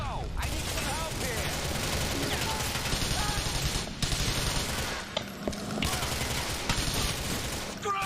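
Rapid gunfire in a Grand Theft Auto IV shootout, dense bursts of automatic shots layered with clanks and impacts, continuing almost without pause, with someone talking faintly underneath.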